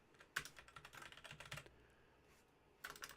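Quiet, close keystrokes on a computer keyboard as a label is entered, a quick run of clicks, a short pause, then a few more taps.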